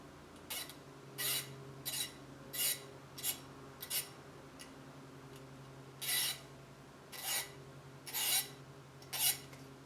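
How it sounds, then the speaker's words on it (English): A metal file rasps across a sharp threaded edge on an Epiphone Les Paul guitar part, deburring it in short bursts of about nine separate strokes, moderately close over a faint steady hum with no talking. "I'm just going to take a file."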